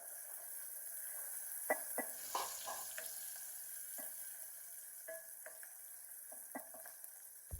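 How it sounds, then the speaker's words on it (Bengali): Onion and chili sizzle in hot oil with garlic in a pan, giving a steady soft frying hiss. Scattered clinks and scraping stir sounds stand out at close range, while the cooking stays fairly quiet and no one speaks. "এখন পরিমাণ মতো পেঁয়াজ দিয়ে দিব, আর পরিমাণ মতো মরিচও দিয়ে দিব।"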